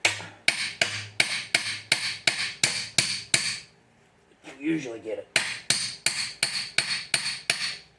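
Steel hammer blows driving a tyre iron under the ring of an old Toyota split rim, a rapid regular series of sharp metallic strikes, loud and close, with a short pause where someone briefly speaks.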